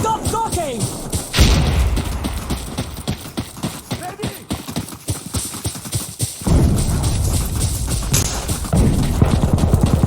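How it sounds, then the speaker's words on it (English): Heavy artillery shells detonate in the Insurgency Sandstorm shooter, deep booming blasts and rumbling thuds rolling one after another close by, with chaotic battle noise and shouting voices throughout. "They're firing artillery!"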